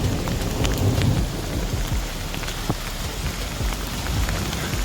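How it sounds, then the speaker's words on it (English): Thunderstorm with heavy rain on a hiking trail at Dogwood Canyon Nature Park in Branson, a dense continuous roar of rain and low rumbling thunder, loud and enveloping, no talk. "It's a storming."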